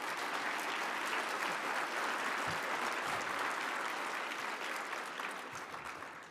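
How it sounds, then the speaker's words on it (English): A conference audience at a digital inclusion event applauds a speaker, a dense, steady round of clapping at moderate distance that eases slightly toward the end. "Please join me in giving Angela another round of applause"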